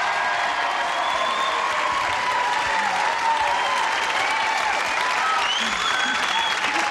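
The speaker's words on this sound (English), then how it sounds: "Would you join me in a little applause for our two civilian contestants here" Steady applause from a studio audience on a 1984 game show welcoming two contestants, dense and sustained across the whole stretch, with a faint bit of whooping mixed in.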